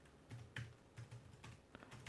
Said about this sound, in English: To see what that's like to type on.